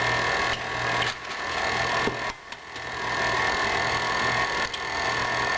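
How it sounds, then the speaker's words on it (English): A grandmother's KitchenAid stand mixer beats cake batter for a lemon blueberry sour cream Bundt cake, a steady close whirring motor hum running throughout with brief dips and faint clinks. "This is my grandmother's KitchenAid. I have never used a KitchenAid or a stand mixer for that matter"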